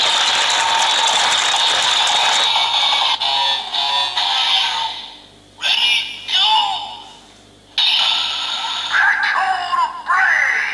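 A DX Evol Trigger Kamen Rider Build transformation toy is turned for its finisher: loud, close ratcheting clicks and a gear-like rhythmic pulse under bright, shrill electronic tones and effects that cut in and out.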